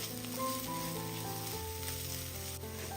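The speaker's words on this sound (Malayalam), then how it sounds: "ഒന്ന് ഇളക്കി കൊടുക്കാം. ഈ പൊടിയുടെ ഒരു പച്ചമണം ഒന്ന് മാറിക്കിട്ടട്ടെ." Chili powder sizzles as it is stirred and fried in a pan for a puttu breakfast recipe, a steady close frying hiss with a faint background hum and no talking.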